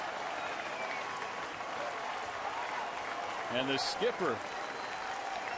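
Applause from a baseball crowd of over 28,000 at a 2009 Detroit Tigers game after a double play, a steady broad roar of clapping throughout with a commentator speaking briefly over it.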